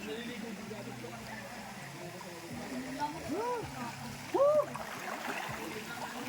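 Cold spring water at a natural pool flows and splashes steadily, with a few louder splashes, while people talk and shout close by.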